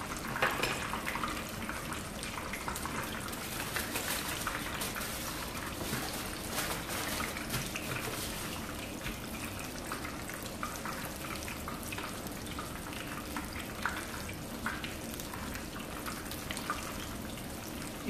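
Flounder fish fries in a pan, giving a soft, steady crackle and light spatter that stays constant and fairly quiet throughout, with no voices.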